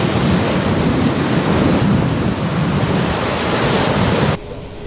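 Loud, continuous roar of ocean waves breaking, with heavy surf wash and wind buffeting the microphone up close, then cutting abruptly to quiet near the end.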